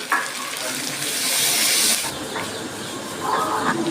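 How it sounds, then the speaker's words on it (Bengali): Water is poured into a pan of sizzling duck meat curry spiced with chui jhal, giving a loud rushing hiss of steam that swells for about a second, then settles into quieter crackling sizzle with a second hissy flare near the end. "আমার কষানো হয়ে গেছে আমি জল দিয়ে দিচ্ছি জল দিয়ে দিলাম"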